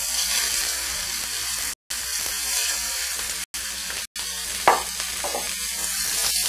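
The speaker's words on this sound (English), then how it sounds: "when you place the venison into the pan, make sure you let it splash away from you" Venison steak searing in an oiled pan gives a loud, constant sizzle and crackle, broken by a few brief gaps and one sharper spatter near the end.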